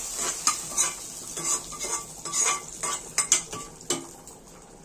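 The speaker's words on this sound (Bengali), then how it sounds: "সাঁতাল দেওয়ার জন্য আমি 5 ফোড়ন তেজপাতা, শুকনো লঙ্কা দিয়ে আমি এটা ঢেলে দিলাম খিচুড়ির মধ্যে" Khichuri with a tempering of five-spice, bay leaf and dry chilli being stirred in, a soft sizzle under repeated scrapes and clinks of a spoon against the pot, fairly quiet and close.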